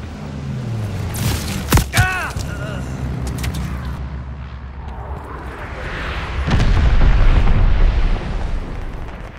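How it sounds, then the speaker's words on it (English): Bomb explosion in Call of Duty: Vanguard multiplayer, with sharp gunfire cracks and pops up front, then a loud, deep, rumbling blast that swells and lingers for several seconds. "Incoming bomb."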